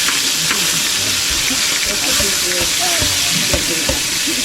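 Garlic, onion and tomato sauté in a hot pan, giving a loud, steady sizzle with scraping stirs and small pops throughout, close up with no talk.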